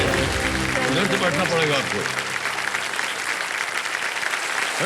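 Studio audience applause on the KBC quiz show set, loud and steady throughout, with someone talking over it near the start.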